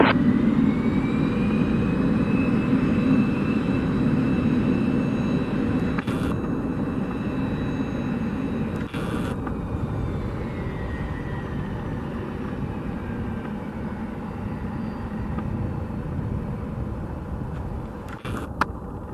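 A Cessna 525 Citation business jet departs a runway at Montreal airport, a steady distant jet engine roar and whine holding for the whole stretch with a few brief clicks, no talking.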